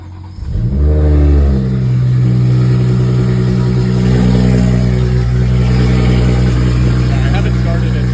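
A BMW B58 engine fitted with a Vargas VTT turbo and a newly installed catch can starts up close by, rising in a brief rev before settling into a loud, steady idle.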